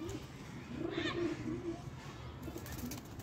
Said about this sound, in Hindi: बहुत समझदार कबूतर है